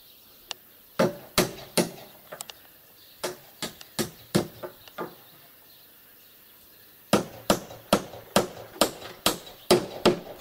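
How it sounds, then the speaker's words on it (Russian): Nails hammered into a storm-damaged roof, sharp ringing blows in quick bursts of several strikes, a pause, then a steady run of evenly spaced hits close by. "Теперь здесь еще забей."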